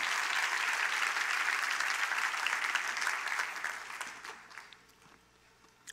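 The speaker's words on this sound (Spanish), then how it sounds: "Puedes bendecirlo con un aplauso bien fuerte, mi amado." Loud applause from a church congregation fills the space, steady and dense for several seconds before thinning and fading toward the end.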